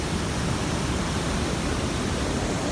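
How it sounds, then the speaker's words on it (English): Waterfall at Raymond's Kill Falls in the Delaware Water Gap, a steady dense roar of falling water that stays constant and close throughout, with no voices. "We're here at Raymond's Kill Falls."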